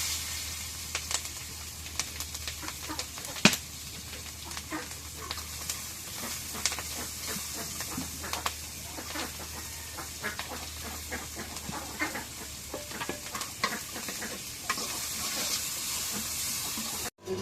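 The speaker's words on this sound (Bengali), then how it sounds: "এখন এই যে এর মধ্যে কড়াইয়ের মধ্যে পেঁয়াজ কাঁচামরিচ এগুলো দিয়ে ভাজে নিই।" Onions and green chillies fry in oil in a wok, giving a constant close sizzle and hiss with scattered sharp crackles and occasional stirring scrapes throughout.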